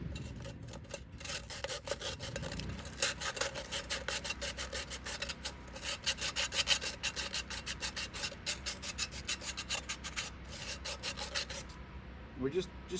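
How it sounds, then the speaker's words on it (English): Metal part being filed to remove burrs, steady rhythmic rasping strokes repeating at close range for over ten seconds, moderately quiet with no talk. "We're just taking the burrs out of it, that's all."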